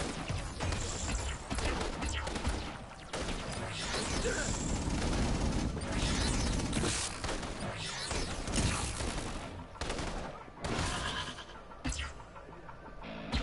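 Machine gun fire in a video game battle, dense bursts of rapid shots and crashing impacts layered over a continuous loud din, with brief gaps between volleys.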